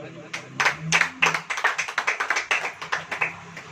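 Church congregation clapping during a sermon, a loose burst of hand claps that settles into a fairly regular rhythm of sharp claps, with a voice briefly underneath at the start.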